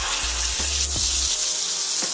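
Tomato chutney sizzling in tempering oil in a pan, giving a continuous close hiss of frying with a few soft stirring knocks.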